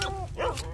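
A dog barks in the S.T.A.L.K.E.R.: Shadow of Chernobyl video game, giving a short close yelping bark with whimpering tones amid game background sound.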